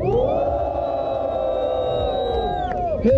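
A rap battle crowd in a semifinal duel between Motta and Refel roars and whoops for Refel in one loud, sustained cheer that cuts off near the end.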